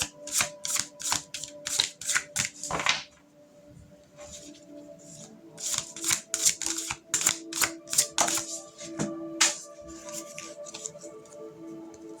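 Tarot cards shuffled by hand, rapid bursts of crisp riffling flicks in two runs separated by a brief pause, close and clear.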